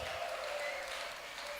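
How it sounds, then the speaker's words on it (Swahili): An audience at a youth leaders' conference clapping, a dense continuous wash of applause heard from a slight distance. "Makofi aje Bwana."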